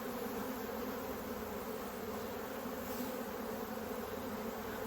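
Steady, dense buzzing of many honeybees close by at an open hive, a continuous humming drone that holds level throughout with no voices.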